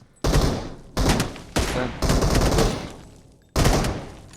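Gunfire in the PUBG Mobile battle game: five loud bursts of shots, each striking sharply and then tailing off, with short gaps between them and no talk.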